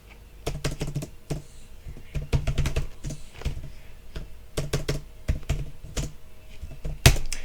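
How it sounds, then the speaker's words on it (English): Someone types a Linux command on a computer keyboard, a close, clattering run of uneven keystroke clicks in quick bursts, ending in one sharper, louder key strike, probably Enter. "Then I'm going to type the same command, but this time instead of down I'm going to type off."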